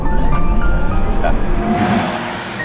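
A Porsche Taycan Turbo S electric car drives in Sport Plus mode, giving a loud, steady synthetic whirr and road rumble with faint tonal hums that rise briefly, then ease slightly toward the end.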